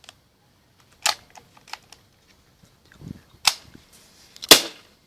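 Several sharp, dry pops from an ASG MP9 A3 gas-powered airsoft gun firing with an empty magazine, spaced irregularly with quiet clicks and handling noise between them.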